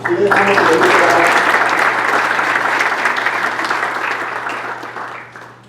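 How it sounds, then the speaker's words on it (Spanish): Strong audience applause at a political talk on leftist parties and the 2016 elections. It starts with a brief voice, then a full room of clapping builds, holds steadily against a low hum and fades out toward the end. "recibamos a Carlos León Moya con fuertes aplausos"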